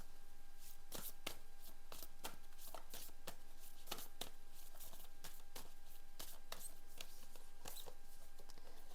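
Tarot cards shuffled by hand in quick repeated riffles and flicks, a crisp papery rattle that comes in bursts at an irregular rhythm, close and fairly quiet with no talking.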